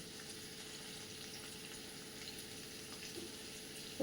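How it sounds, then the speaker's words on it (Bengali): Onions being stirred in a hot pan give a steady, even sizzle with faint scraping throughout, close and continuous, with no voices. "পেঁয়াজগুলো ভাজবো না, জাস্ট একটু নেড়ে নিচ্ছি আর কি"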